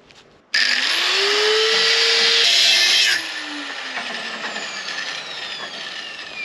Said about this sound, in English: What we're gonna do now is some grinding, welding and stuff.